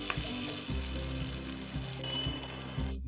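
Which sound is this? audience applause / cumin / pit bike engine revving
cumin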